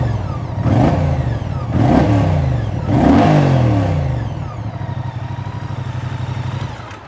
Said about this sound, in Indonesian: kira-kira bagaimana suara mesin terbaru dari Moto Guzzi V100 ini?